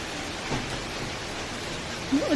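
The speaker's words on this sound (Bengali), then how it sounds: "ভালোই বৃষ্টি হচ্ছে, একবার করে থেমে যাচ্ছে, একবার করে হচ্ছে আর কি।" Moderate rain falls outside, a steady broadband hiss with no distinct drops, continuous and even through the short stretch.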